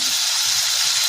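Potato slices sautéing in oil with turmeric, Malvani roasted masala, garam masala and salt give off a bright, constant sizzling hiss, close and uninterrupted.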